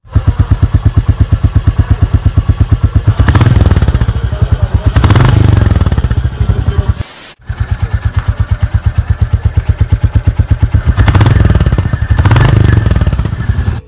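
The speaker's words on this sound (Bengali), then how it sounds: "আর এই বাইকগুলোর আওয়াজটা তো একবার শুনুন।" Royal Enfield Hunter 350 and Classic 350 motorcycle engines idling close by with a steady thumping single-cylinder beat, rising in two revs on each half, a brief cut near the middle, no talk.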